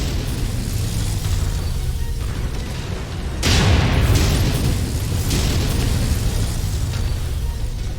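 Missile explosions in the mech combat game MechWarrior 5: Mercenaries, a loud broadband blast at about the midpoint over a steady rumbling battlefield bed, followed by a second softer impact, with no talk.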